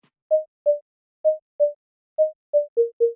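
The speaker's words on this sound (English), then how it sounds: "It is just a sine wave that plucks, but has a bit of a tack to it" Plucked sine-wave synth with a slight tack to it, dry before mixer effects, eight short clean mid-pitched notes in an uneven rhythm, the last few stepping lower, alone against silence.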